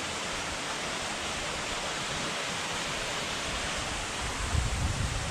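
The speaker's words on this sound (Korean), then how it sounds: "칠성계곡의 마지막 폭포." Waterfall at the end of Chilseon Valley, a roaring broadband rush of falling water that stays steady and loud throughout, with no voices.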